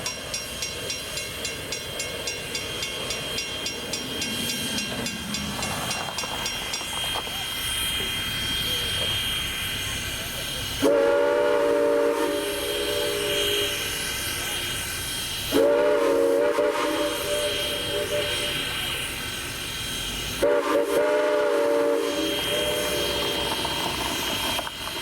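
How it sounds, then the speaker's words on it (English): Canadian National No. 89, a 1910 2-6-0 Mogul steam locomotive at the Strasburg Railroad, sounds its whistle in three loud sustained blasts over a steady background rumble of the running train. "Our next locomotive is Canadian National number 89 at the Strasburg Railroad"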